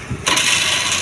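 A car engine turns over and catches during a driving lesson, a short crank followed by a steady, close idle that fills the rest of the moment.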